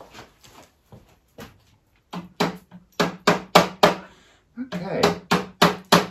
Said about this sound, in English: So I have a couple of very tiny nails that I need to hammer back in.